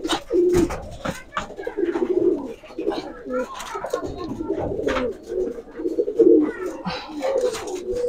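Giribaz pigeons cooing at a large pigeon farm, with repeated low throaty coos from several birds close by, some wingbeats and rustling, while people talk over the cooing.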